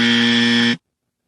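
Loud electronic buzzer effect sounding as one steady, harmonic-rich tone for about three quarters of a second, then cutting off sharply into silence.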